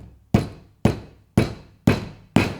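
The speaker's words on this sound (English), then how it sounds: "using a tack, we can tack the loop in place." A hammer drives a tack into a leather hound collar to fix its loop. Five sharp, evenly spaced taps ring out close by, each decaying quickly.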